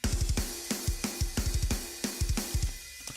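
Punchy rock drums from a soundtrack track, with fast kick-drum doubles locked to the guitar rhythm and steady snare and cymbal hits, playing loud and driving throughout.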